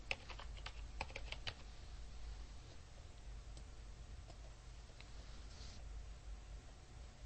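Typing into a search box on a computer keyboard: a quick burst of clicking keystrokes at the start, then a few scattered single presses over a steady hiss. Quiet and close, with no talking.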